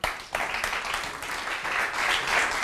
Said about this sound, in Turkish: The Taste'in ünlü jüriyesi Rafet Şef geliyor efendim alkışlarınızla